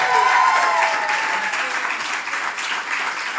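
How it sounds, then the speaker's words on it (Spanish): A live comedy audience claps and cheers enthusiastically, a sustained burst of applause from a crowd with a few whoops rising over it. "Aplausos para Mike y para Cristina."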